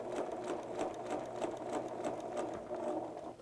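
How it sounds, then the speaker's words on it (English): Sewing machine stitching a knit fabric sleeve into a garment with the needle down, a continuous even motor hum and rapid needle chatter, close and steady throughout with no talking. "to sew with the needle in the down position so that as I stop and maneuver this sleeve"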